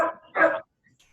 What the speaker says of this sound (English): sorry, you can hear my dog barking.